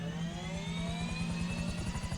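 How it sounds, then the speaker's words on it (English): A helicopter in a video game flies with a loud, rapid rotor chop over a steady turbine whine, the blades thumping rhythmically and continuously up close. "It's just a helicopter, man."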